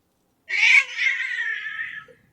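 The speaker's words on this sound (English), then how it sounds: "my cat wanted to act up there for a second" A single drawn-out cat meow, close and clear, rising then trailing off over about a second and a half with no other sounds.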